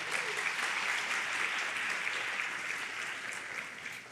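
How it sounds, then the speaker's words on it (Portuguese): A church congregation applauding loudly, dense steady clapping that carries on for several seconds and tapers slightly near the end. "aplauda Jesus bem forte"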